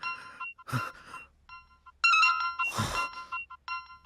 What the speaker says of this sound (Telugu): మళ్ళీ వీడు ఫోన్ చేశాడు.